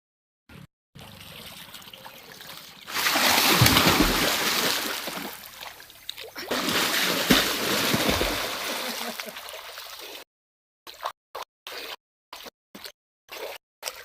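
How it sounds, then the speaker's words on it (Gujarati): Water splashes and rushes as people bathe outdoors, a loud sustained wash with a brief pause, followed by short separate splashes near the end. "સામે મારો ભાઈ નાહી છે"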